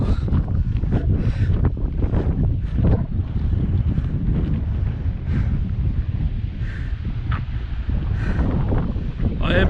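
Warm wind gusting outdoors on a hot day along the coast of Brittany, a steady loud roar of air buffeting the microphone throughout, with no talk over it.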